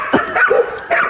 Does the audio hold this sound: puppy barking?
yes